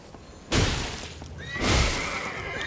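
A horse in the video game Elden Ring gives two loud, bright whinnies in quick succession, with a sharp kicking crack at the first and a lingering shrill tail after the second.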